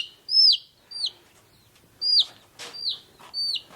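Young chicks loose from their pen give sharp, high chirps in a quick run of about six bright calls, close and loud with short gaps, no talking.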